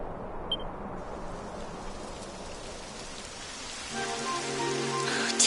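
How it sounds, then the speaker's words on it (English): Steady rain patters in the Dragon Quest XI game world as a soft, even wash of drops, with a faint tonal game chime rising near the end, no voices. "It would have to go and start raining, wouldn't it?"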